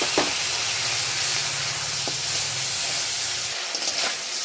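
Gobindobhog rice with cashews and raisins, along with chilli, bay leaf and whole spices, frying in a pan, heard as a constant close sizzling hiss with a faint low hum underneath and no speech.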